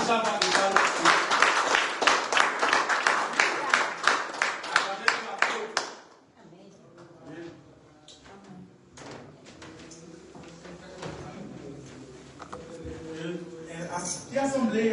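A church congregation claps loudly for about six seconds, a dense burst of many hands that stops abruptly, followed by quieter room noise, shuffling and a voice speaking.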